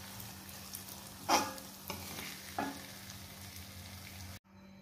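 Pindang carangka fish being stirred in a pan of yellow spice paste, giving a soft steady sizzle broken by a few sharp scraping clinks of the utensil before the sound cuts off abruptly near the end.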